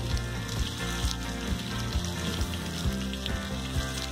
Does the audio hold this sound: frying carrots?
yes